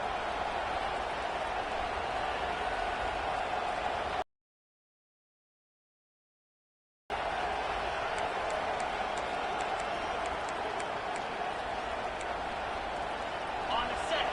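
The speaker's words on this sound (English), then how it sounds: "This crowd bringing the energy and noise early." Stadium crowd noise from the NCAA 25 college football video game, a steady broad roar filling the stadium, interrupted by a gap of near-silence before resuming at the same level.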